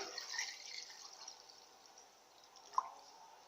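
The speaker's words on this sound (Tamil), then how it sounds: "இந்த 250 ml பாலை இந்த ஜார்ல ஊத்திடலாம்." 250 ml of milk poured into a mixer jar for a protein-rich milkshake, making a faint, steady liquid trickle with one small drip-like splash near the end.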